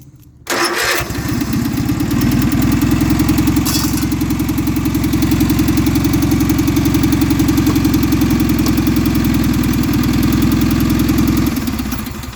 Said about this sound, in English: It runs, actually starts really easy, considering.